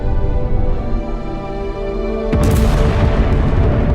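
A dramatic explosion in a Korean drama scene, a deep, heavy boom bursting in after a sustained low rumbling tone and then roaring on loudly as a dense, broad blast.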